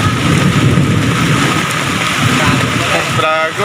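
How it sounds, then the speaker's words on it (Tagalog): Heavy rain lashes down during a storm over open water by mangroves, where fishermen are out, making a loud, dense hiss with low rumbling beneath and a brief shift near the end. "Lakas ng ulan, lakas ng kulog."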